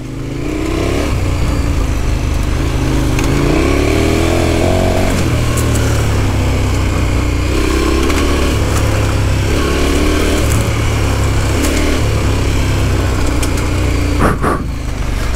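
A KTM motorcycle on a trail ride revs hard and loud through repeated rising and falling throttle sweeps. The engine note drones close and continuous, with no talk over it.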